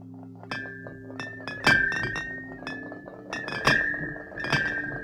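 Chiming, glassy duplication effect from the Gemino curse in a Harry Potter VR game, with a series of bright clinking hits and sustained ringing tones layered over a low hum, swelling in bursts.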